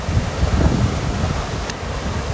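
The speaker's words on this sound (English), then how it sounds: "it's actually quite comforting to hear the rustle of the water." A continuous, steady rush of running water on the Staffordshire and Worcestershire Canal, a broad hissing wash with no pauses or voices.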